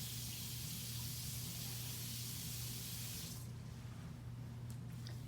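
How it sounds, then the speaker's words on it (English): Water from a tap rinses a toothbrush during patient mouth care, a steady close hiss of running water for about three seconds before cutting off, leaving a faint low hum. "You will rinse the toothbrush and then place it in the emesis basin."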